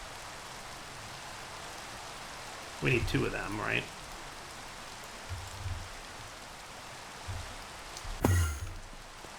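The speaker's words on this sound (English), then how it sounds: "Let's get rid of this rain." Steady hiss of rain falling in the Minecraft modpack Enigmatica 2, running evenly through the clip while someone talks briefly and a couple of short game thuds sound.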